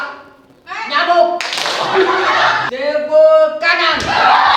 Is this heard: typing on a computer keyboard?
no